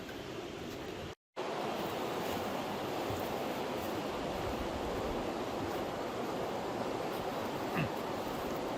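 Steady broadband rush of the East Fork Lewis River flowing outdoors, continuous and fairly close, with one brief dropout near the start and no voices.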